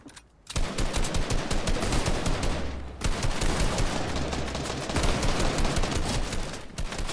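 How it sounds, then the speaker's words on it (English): Fortnite gunfire, with sustained, dense, loud automatic bursts of shots that run almost without a break and pause only briefly near the middle. "I'm shooting at your wall."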